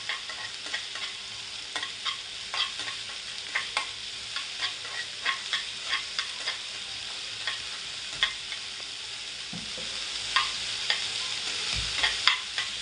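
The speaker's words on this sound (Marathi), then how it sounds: "आपण कांदा टाकून घेऊया फोडणीला" Chopped onion hits hot oil for a Malvani-style tempering, hissing in a steady close sizzle while a utensil stirs and scrapes the pan in regular strokes roughly every half second, with no talking.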